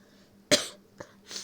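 A person with a cold coughs once sharply, then gives a short smaller cough and a breathy throat-clearing exhale, close and alone.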